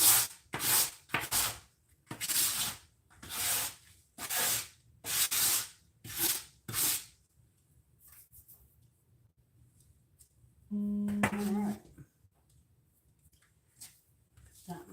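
A scraper drags leftover biscuit flour off a kitchen work surface in a series of rough, close scrapes, several quick strokes followed by quieter shuffling and a brief hum.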